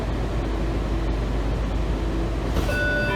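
Washington Metro Kawasaki 7000-series cars 7148 and 7512 on a Red Line run toward L'Enfant Plaza, a steady loud rumble of the train in motion with rising tonal motor whine near the end.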